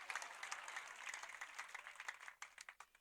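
A church congregation applauding together: a fairly faint, sustained burst of clapping that thins into a few scattered individual claps at the end.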